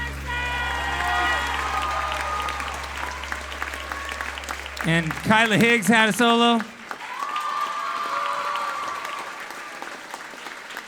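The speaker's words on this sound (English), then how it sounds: "Applause for our soloist, Emerson Hale." An audience at a middle school popular music concert applauds its soloists with dense, sustained clapping that continues while a voice speaks over a microphone in the middle.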